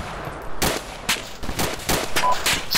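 Repeated bursts of machine gun fire from an ArmA II combat scene, sharp broadband cracks arriving in uneven clusters over a steady background, fairly loud and with no talking.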